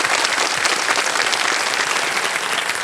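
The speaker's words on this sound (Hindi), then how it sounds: "एक बार इनके लिए ताली बज जाए।" A studio audience on a televised quiz show bursts into loud, continuous applause, dense even clapping holding steady from start to finish.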